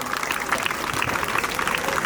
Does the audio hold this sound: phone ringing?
no